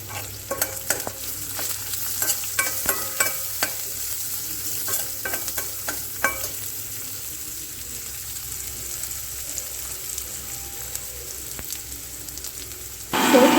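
Garlic, onion and chili fry in a pan with a steady, close sizzle, punctuated early on by a run of sharp clinks and scrapes from stirring that fade into an even hiss, then a louder burst at the very end.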